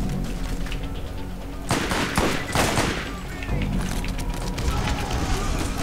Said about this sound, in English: assault rifle. It's got really high fire rate.